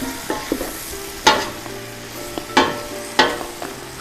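A big spoon stirs homemade chicken soup in a pot, giving four or five loud, close scraping and sloshing strokes at irregular intervals with quieter clinks and a soft simmer between them.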